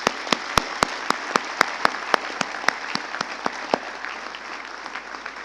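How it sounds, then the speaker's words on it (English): Graduates at a medical college convocation ceremony give themselves a round of applause: sharp, loud individual claps ring out in a steady rhythm over a softer bed of crowd clapping, thinning toward the end. "give yourselves a round of applause"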